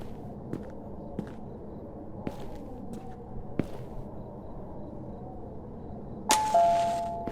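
Doorbell in the horror video game Dreamless, heard as a sudden bright chime that rings out and fades near the end, preceded by scattered soft clanks and footstep-like knocks in a quiet room.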